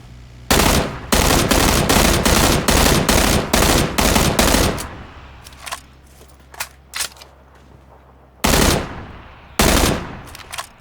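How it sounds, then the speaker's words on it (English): Loud, close automatic gunfire in PUBG: a long run of rapid bursts, then a quieter stretch with scattered distant pops, then two more short loud bursts, with no talking. "I just felt like firing a couple rounds."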